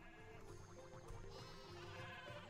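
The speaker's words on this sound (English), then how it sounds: "But these sheep are eating all the apples." Sheep bleat repeatedly in a Skylanders Spyro's Adventure video game scene, layered over steady game music in a busy, continuous mix with no talk.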